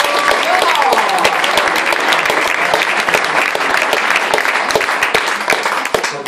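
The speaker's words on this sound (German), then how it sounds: "Er kriegt auch einen Beifall." An audience applauds steadily and loudly throughout a German song-award ceremony, dense clapping filling the whole stretch without pause.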